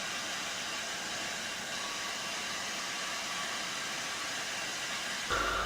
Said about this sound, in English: You can hear the water going into the boiler there.